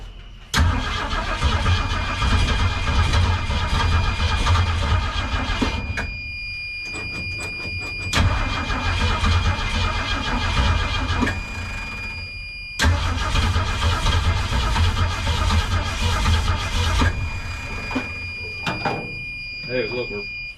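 A 1964 Ford Econoline van engine, abandoned for 37 years, running loud and rough in two long close bursts with a brief drop between them, a high whine over the top and people talking throughout.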